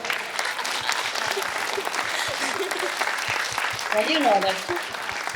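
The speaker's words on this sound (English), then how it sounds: "Clapping, make me feel good like that." An audience claps steadily throughout, a dense, sustained round of applause under a voice briefly speaking.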